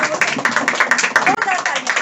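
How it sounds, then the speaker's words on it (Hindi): An audience at a doctor's talk in a herbal store stands and claps in quick, fairly regular bursts, close by, while a voice carries on over the clapping. "सब लोग खड़े होकर ताली बजाते"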